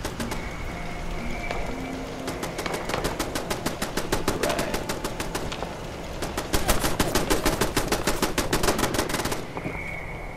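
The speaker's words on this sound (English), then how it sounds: "Shooting out there." Rapid automatic gunfire in the Fallout 76 video game, fired in long sustained bursts of sharp, evenly spaced shots at moderate distance over steady ambient noise.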